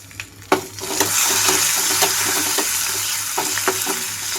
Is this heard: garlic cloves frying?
yes